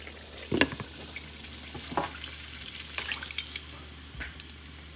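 Food fries in a pan with a soft background sizzle, broken by a few sharp crackles and stirring clatters at the front and in the middle, quiet and close.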